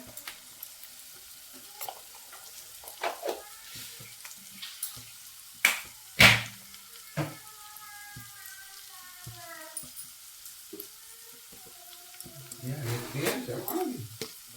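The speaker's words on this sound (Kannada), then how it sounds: "ಕಡಲೆಬೇಳೆ ಇಟ್ಟು ನೀರಾಕಿ ಹಾಕಿ ಚೆನ್ನಾಗಿ ಕಲಿಸ್ಕೋಬೇಕು" Soaked chana dal is mixed with water by hand in a vessel. Sparse wet squelches and clinks sound nearby, ending in a busier burst of splashy stirring.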